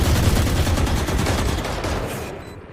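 Rapid bursts of gunfire in a competitive tactical shooter match, dense and loud at first and thinning toward the end as the shots fade out.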